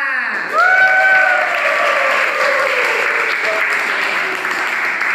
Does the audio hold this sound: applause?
yes